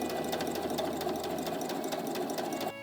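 A sewing machine runs steadily for nearly three seconds, stitching a front pocket cut from an old tote bag onto a book holster, with a fast even needle rhythm that stops abruptly at the end; close and loud, no talk.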